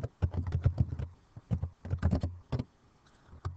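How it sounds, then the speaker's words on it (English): Keys clatter on a computer keyboard in short bursts of typing, close and fairly quiet, with brief pauses between clusters of keystrokes. "So we're going to start by typing in our heading"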